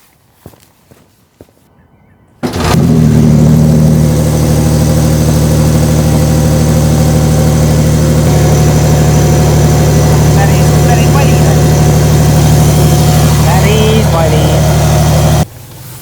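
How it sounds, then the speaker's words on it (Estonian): A Porsche 911 cold-starts outside, a few faint clicks and then the engine catches with a sudden loud roar and settles into a steady, heavy high idle heard from nearby outdoors until it abruptly cuts off near the end. "praegu on hea võimalus seda väljaspoolt filmida cold starti, et kuidas see väljaspoolt ka kõlab"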